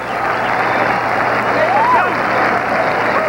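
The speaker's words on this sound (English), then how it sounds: "And the crowd is on its feet applauding" A boxing arena crowd on its feet after the final bell of a heavyweight bout, sustained loud applause and crowd roar, with a commentator's voice faintly over the noise.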